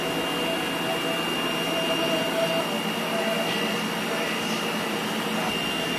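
A DTF printer runs a nozzle test, giving a steady, loud mechanical whir and hum that holds evenly throughout without breaks.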